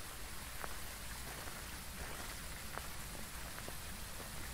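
Heavy rain falls in the ghost-hunting game Phasmophobia as a dense, steady hiss, with a few faint drops tapping through it and no voices.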